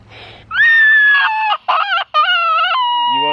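Chickens on pasture crow loudly and close, in long drawn calls broken by short gaps, with some clucking near the start.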